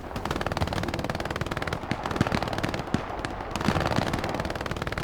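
An MG42 machine gun in the shooter game Hell Let Loose fires long, rapid bursts close by, a dense continuous rattle with a few louder cracks of other gunfire mixed in.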